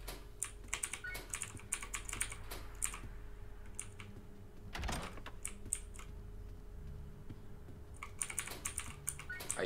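Computer keyboard mashed hard during a Roblox Doors game session: a dense, fast clatter of key clicks runs through the whole stretch with a few louder bursts, close and dry over a low steady hum, with no talking.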